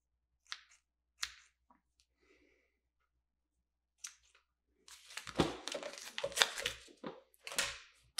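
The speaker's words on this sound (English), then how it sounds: "Then I'm going to take my scissors and I'm going to cut those" Quiet, close-up scissor snips, a few sharp isolated clicks, then a quick flurry of cutting and rustling through strands.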